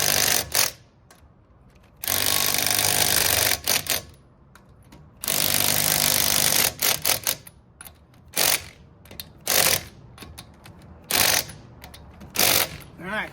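Impact wrench working on engine spark plugs, fitted with a non-impact socket, firing in several loud, close bursts of rapid rattling hammering separated by short pauses and quieter clinks.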